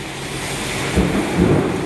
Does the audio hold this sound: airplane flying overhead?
no